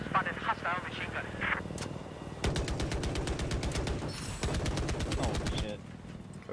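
Hostile machine gun fire rattles in Battlefield 4, long rapid bursts of shots over engine and battlefield noise, with voices talking over the shooting.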